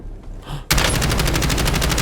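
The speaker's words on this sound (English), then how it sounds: "And I wasn't expecting those gunshots." Rapid automatic gunfire erupts in the Warzone battle royale game after a quiet moment, a loud, evenly spaced burst of shots running steadily to the end.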